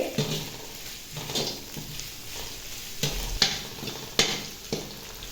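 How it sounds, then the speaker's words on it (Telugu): Capsicum and green chillies stir-frying in a pan for egg fried rice, a steady close sizzle with repeated scraping strokes and sharp clinks of a spatula against the metal, no voices. "ఇప్పుడు క్యాప్సికం వేసుకుంటున్నానండి అలాగే పచ్చిమిర్చి చీలకలు కూడా వేసేస్తున్నాను ఇవన్నీ ఎక్కువగా వేగనివ్వకూడదు"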